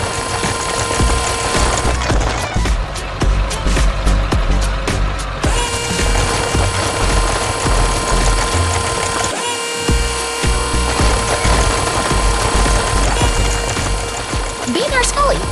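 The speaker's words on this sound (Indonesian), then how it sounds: "Suara mesinnya begitu kuat saat menghantam batu." A construction excavator engine grinds steadily as its attachment hammers against rock on a beach house building site, a loud, dense, continuous mechanical roar with rattling bursts of impact, close up throughout.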